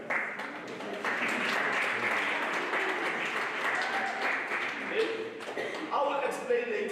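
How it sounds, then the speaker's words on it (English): Sustained applause from a group fills the clip, with claps going on throughout and voices mixed in toward the end. "clap hands for them."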